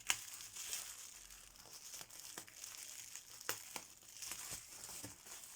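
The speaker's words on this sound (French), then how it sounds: "Il est bien ton papier bulle." Soft crinkling and crackling of bubble wrap being handled, with scattered sharper pops and rustles over several seconds, close and fairly quiet.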